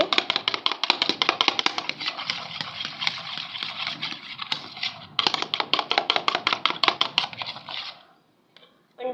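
Raw chapli kabab mince being mixed by hand with a beaten egg, giving a steady run of close, wet squelching and slapping pulses, briefly pausing midway and then stopping near the end.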